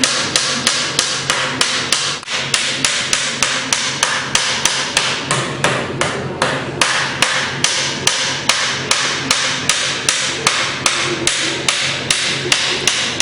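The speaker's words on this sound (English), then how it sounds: "Knock it down with the big one, and then go back with a smaller hammer" Steel sheet being formed by hand hammering for a National hollow-neck tricone guitar, a steady run of sharp, evenly spaced metallic blows, close and loud, continuing for the whole stretch with no talk.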